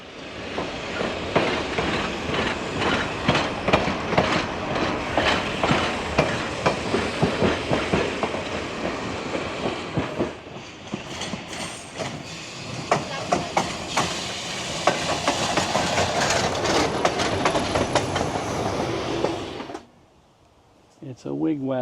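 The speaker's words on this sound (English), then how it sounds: "You can actually see this area when you ride the passenger trains." A passenger train runs on rails with a loud, close, continuous rumble and rhythmic clickety-clack, then cuts off abruptly near the end.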